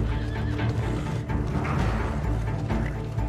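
A horse whinnies loudly in the video game Red Dead Redemption 2, a drawn-out neigh over a dense background of game sound with faint hoof clops.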